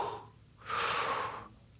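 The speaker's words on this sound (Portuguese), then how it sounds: "Inspira e expira." A man demonstrating slow, deep breathing: one long, loud breath drawn or pushed out through the mouth for about a second, close by, with quieter room air before and after and no talk.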